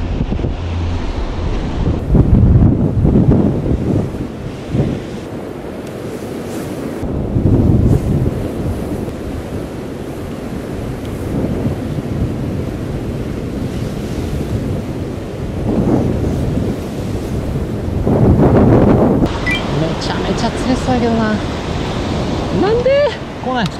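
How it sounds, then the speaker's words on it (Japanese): Ocean waves break on the shore with loud surges every few seconds, mixed with gusty wind buffeting the microphone and someone occasionally talking. "波上がってきとるわ"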